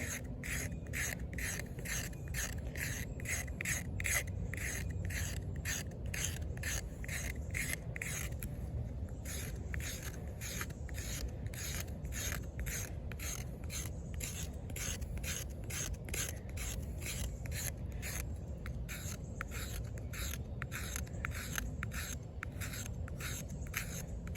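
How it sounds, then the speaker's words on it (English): A boot dagger's spine edge rasps against wood in quick, rhythmic strokes, close and dry, each pass a short scratchy scrape with a brief pause partway through. "if I needed to scrape some wood, I'm using that edge"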